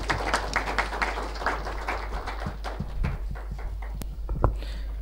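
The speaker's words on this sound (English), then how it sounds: "a round of applause" An audience at a corporate industry event gives a round of applause, a steady patter of many clapping hands at moderate volume that thins out toward the end.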